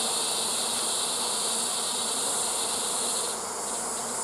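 Dense, steady buzzing of many honeybees fills the air, a loud continuous drone with no pauses.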